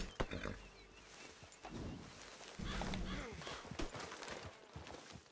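Horse hooves in Red Dead Redemption 2, a soft uneven clip-clop of steps under a busy wash of game ambience and rumble, moderately quiet and continuous.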